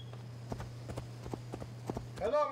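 A horse's hooves clip-clop in Assassin's Creed Valhalla, a steady walking rhythm of distinct hoofbeats over a low constant hum, ending with a brief swell of game sound.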